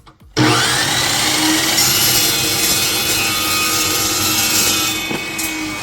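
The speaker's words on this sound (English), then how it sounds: "And this is why we use an Evo saw." An Evo saw with a dull blade cutting through metal while building an electric CR80 conversion, a steady, loud, continuous grinding rasp that starts abruptly and runs nearly unbroken before easing slightly near the end.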